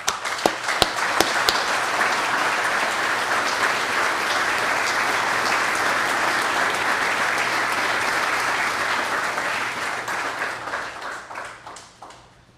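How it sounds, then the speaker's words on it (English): Sustained applause from an audience at a community ceremony honoring first responders, steady dense clapping that holds for about ten seconds before tapering off near the end. "A round of applause, please."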